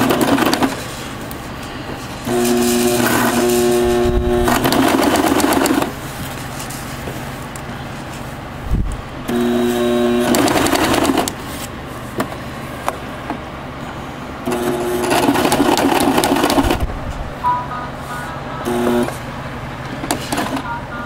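Sewing machine stitching a weighted blanket, running in three loud, close, steady whirring bursts of a few seconds each, separated by quieter pauses with handling noise.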